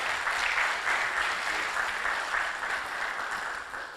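Sustained applause from an audience at an academic conference, a steady dense wash of many hands clapping at moderate level with no voices over it.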